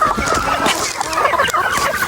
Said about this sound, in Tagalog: May barakong manok dyan.